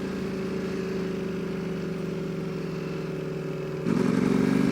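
A 2019 Ducati Panigale V4 engine chugging at low revs, a steady close rumbling drone with a rougher, slightly louder pulse near the end, with no voices.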